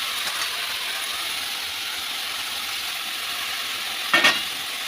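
Mixed vegetables frying on high flame, a steady hissing sizzle throughout with one brief clatter of stirring near the end, close up, with no talk.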